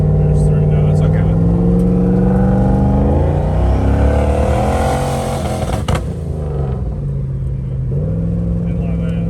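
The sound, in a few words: car engine revving at full throttle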